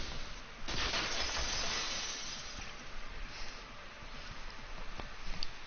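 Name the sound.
vase shattering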